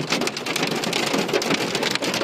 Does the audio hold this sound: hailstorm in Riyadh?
yes